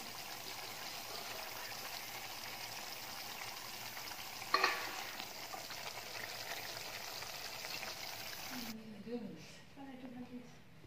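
Paneer cooks in a pan as coriander is added, giving a steady close sizzle with stirring scrapes throughout, then a quieter stretch with a voice speaking near the end.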